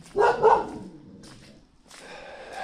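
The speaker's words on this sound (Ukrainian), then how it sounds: "Собака. Собака." A dog barks a few times at a rural homestead, with loud, close barks at first followed by quieter yelps and rustling, and no speech over it.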